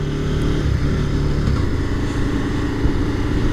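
Suzuki SV650 motorcycle engine on a test ride, a steady, loud mid-pitched drone with slight throttle variation and wind rush throughout, no voices.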